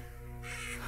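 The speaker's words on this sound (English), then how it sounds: "We got birds that just flew over there." Crows caw outdoors, a single harsh call rising out of steady background noise, moderately near and loud, with no talking over it.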